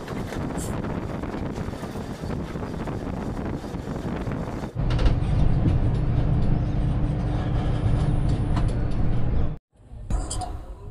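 Doon Express train running on the line from Haridwar toward Rishikesh, a steady loud rumble of wheels and carriage noise with wind buffeting the microphone, growing heavier midway before a brief drop and return.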